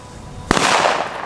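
A New Year's Eve firecracker fizzles out as a dud, giving one sharp pop followed by a loud, hissing, crackling burst that fades away.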